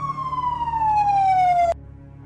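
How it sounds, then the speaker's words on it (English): A single siren tone slides slowly downward, then cuts off abruptly, leaving quiet background hum. "I heard the sound of police sirens."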